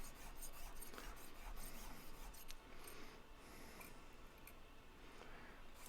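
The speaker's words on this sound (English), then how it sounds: "change the direction and file so that all of the scratches go in one direction" A hand file rasps across a silver pendant in steady back-and-forth strokes, close and fairly quiet, with a continuous gritty scraping texture and no talking.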